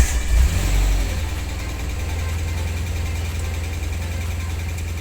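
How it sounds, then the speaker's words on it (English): A car engine starts with a low rumble and a short rev, then settles into a steady idle during a brake pressure test on a car with a new Brembo brake power regulator and a Bosch ABS system. "I'll start the engine there."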